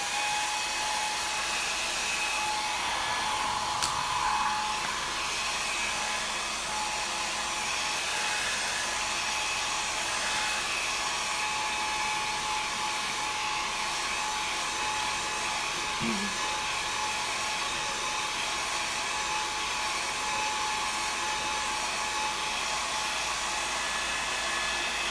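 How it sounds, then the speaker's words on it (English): Hair dryer blowing steadily on drying paint, a loud continuous whooshing hum held nearly unchanged from start to end. "I'm gonna hit these with a blow dryer"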